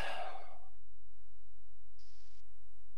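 A single long, breathy exhale through the mouth, like a sigh, fades out into near silence with a faint steady hum beneath.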